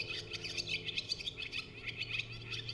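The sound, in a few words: bird song clip played on a Norns synthesizer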